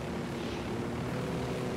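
A helicopter in the video game Ghost Recon gives off a steady, droning engine and rotor roar at constant loudness, with no voices.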